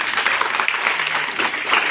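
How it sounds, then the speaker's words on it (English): Audience applause at a school welcome event for a long-serving staff member, steady dense clapping filling the whole stretch without a break. "Please give a big round of applause."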